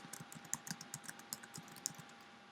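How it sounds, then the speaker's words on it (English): Typing on a computer keyboard, entering text into a table cell on a website, with quick irregular clicks of keys at close range and a few louder strokes standing out, no talk. "If I just start typing without clicking anywhere else,"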